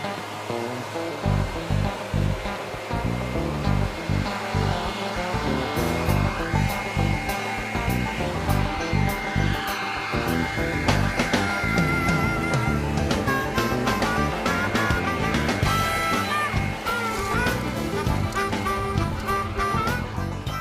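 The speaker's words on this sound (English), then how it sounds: "my leaf blower will do a great job of cleaning out the cracks, then clearing everything off the surface quickly" A leaf blower roars continuously at close range, a steady breathy whoosh that shifts slightly in pitch as it sweeps debris from the cracks and off a paved surface, with no talk.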